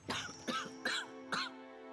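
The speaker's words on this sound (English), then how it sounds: "She chuckles herself into another coughing fit." A woman in the Pillars of Eternity 2 video game coughs in a short fit, four sharp rasping bursts in even rhythm over two seconds, quiet and close with no talking.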